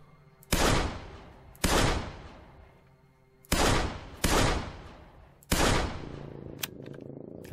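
Gunfire in the video game 13 Days In Hell: five loud, sharp shots in uneven pairs, each with a decaying tail, standing alone with no talk.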